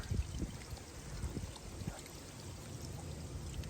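Water trickles and pours from the outlet of a bog filter on a garden pond, a soft, continuous splashing with small irregular gurgles, quiet and close, with no talking.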